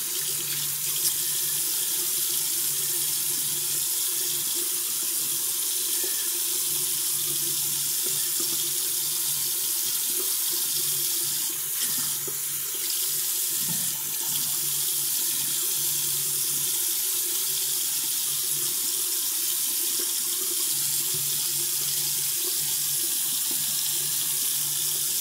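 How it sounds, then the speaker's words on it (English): Tap water runs steadily at a sink while body scrub is rinsed off an arm, a continuous close hiss and splatter with small shifts in the flow and no talking. "Then I'm going to rinse it off so y'all can see how soft my arm is."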